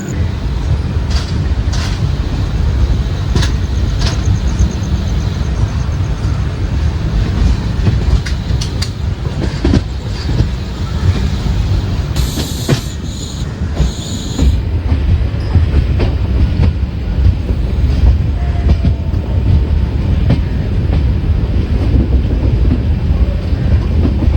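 The Venad Express passenger train rumbles steadily along the rails, its wheels clattering and the carriage droning loudly and continuously throughout, with a brief squeal partway through.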